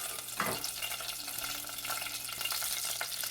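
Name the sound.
mustard seeds, dried chillies, curry leaves sizzling in hot oil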